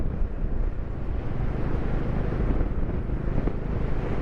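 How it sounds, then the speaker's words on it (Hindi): Strong wind gusting through a high mountain valley in Ladakh, a steady, loud broadband roar buffeting the microphone for the whole stretch with no break. "इस तरफ की वैली में बहुत ज़्यादा हवा चल रहा है भैया।"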